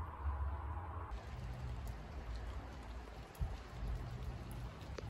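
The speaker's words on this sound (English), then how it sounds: "It is raining" Rain falls steadily outside a trail shelter during wild winter weather, a soft continuous patter with occasional heavier drops nearby, faint and even throughout with no voices.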